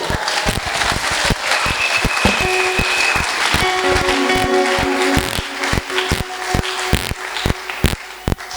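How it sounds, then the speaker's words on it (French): A church congregation breaks into sustained, dense applause praising the Lord, with a steady held musical tone running underneath and a few sharper claps standing out near the end. "nous acclamons le Seigneur"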